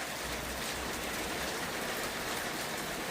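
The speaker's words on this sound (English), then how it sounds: "it was absolutely pelting it down" Heavy rain pours down outside a garage, a dense, steady hiss of downpour that holds unbroken throughout with no voices.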